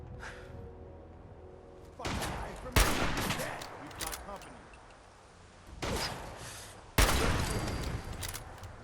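Gunfire in the video game Fallout 4, several loud sharp shots, two of them especially close and cracking, each followed by a rolling echo, with a player talking in between.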